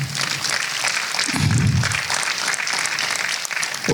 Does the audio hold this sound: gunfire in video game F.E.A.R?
no